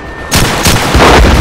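A mortar fires in a stop-motion desktop battle between toy army men: a sudden loud, close blast followed by a sustained rumbling roar, with a second burst building within about a second.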